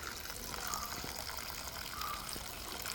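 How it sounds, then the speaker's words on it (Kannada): Water pours and gushes over potatoes that have already been washed several times. The flow is quiet, continuous and fairly distant, with no voices. "ಇವಾಗ ನಾನು ನೀರು ಹಾಕ್ತೇನೆ"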